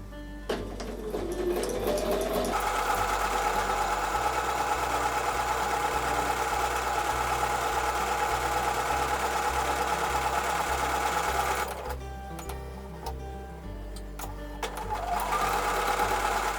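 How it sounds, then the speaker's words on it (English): A sewing machine stitches quilt block pieces, running steadily with a fast, even mechanical hum and rattle, pausing briefly near the end before starting again. "so these are now ready to go over to the sewing machine."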